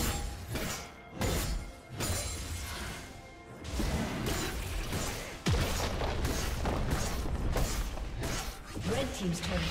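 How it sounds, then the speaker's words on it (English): A turret is destroyed in League of Legends, a crashing, shattering burst followed by further booms and whooshes amid dense game effects. "Blue Team's turret has been destroyed"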